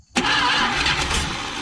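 A car with a cheap homemade Mad Max–style exhaust fires up after a brief crank, then settles at once into a loud, steady, rumbling idle close by.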